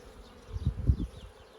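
Honeybees hum around an opened hive frame during a spring colony expansion, a short low buzzing swell that rises and fades within a second, close by and without talk.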